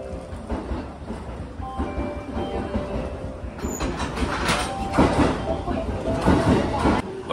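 Steady rumble of an express train running on rails on the Fujikyu Railway in Japan, with rhythmic clatter and some louder rattling partway through, heard from inside the packed carriage.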